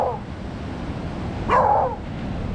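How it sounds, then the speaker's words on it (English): A dog barks once at middle distance, a short sharp bark standing out over steady low wind and surf rumble at a beach surf spot. "This dog will not shut up. It just keeps barking."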